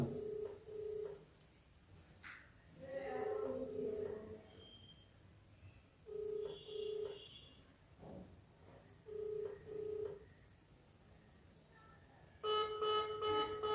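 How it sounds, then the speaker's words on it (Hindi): A phone ringback tone repeats in paired pulses with silent gaps between, followed by a brief louder electronic tone at the end, on an unanswered call. "घंटी जा रही है"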